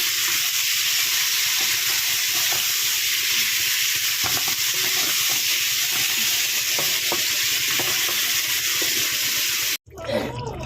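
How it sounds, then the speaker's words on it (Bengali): Bhola fish with ridge gourd and green chilli, tempered with nigella seeds, sizzles steadily in a pan, a loud constant frying hiss with occasional stirring clicks, cut off abruptly near the end. "কাঁচা লঙ্কা দিয়ে ভোলা মাছ রান্না হচ্ছে এখানে"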